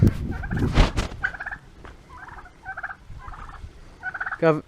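Turkeys on a family farm gobble in a string of rapid rattling calls, fairly close, with a few louder bursts near the start and end and no talk over them.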